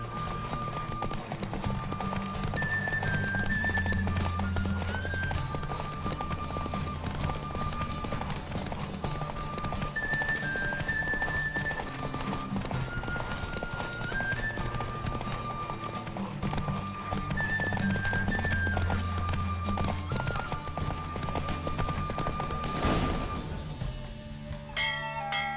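Rhythmic hoofbeats of a galloping horse during a race in The Witcher 3, steady and continuous, with bright musical tones layered over the running.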